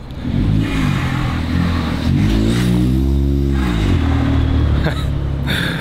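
A small sports car's engine revs hard and loud, pitch climbing and falling in sweeping waves like a kart being pushed, with a brief drop before it rises again.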